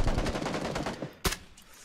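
Rapid bursts of automatic gunfire in the PUBG Battlegrounds video game rattle through the first second, then one loud sharp shot rings out alone before fading into quiet.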